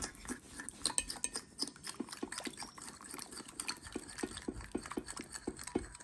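A spoon stirs lotus root starch in a bowl as freshly boiled water is poured in, giving a quick, steady series of soft clinks and scrapes against the bowl, close and fairly quiet, with a faint trickle of water.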